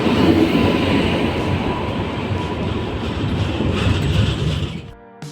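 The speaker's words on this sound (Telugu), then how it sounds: "మా ట్రైన్ అయితే అరైవ్ అయిపోయింది" Train pulling into Charlapalli railway station in Hyderabad, a loud, steady rumble and clatter of rolling rail cars that continues throughout, then drops away abruptly near the end.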